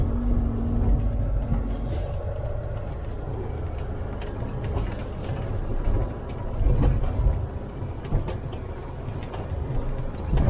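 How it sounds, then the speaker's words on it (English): A car rolls steadily over packed gravel, its low engine rumble and tire crunch continuous and close for the whole stretch, with slight swells in loudness and no voices. "I hope this gravel's packed. I'm gonna keep momentum on it so I don't get stuck."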